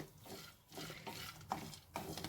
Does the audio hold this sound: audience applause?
no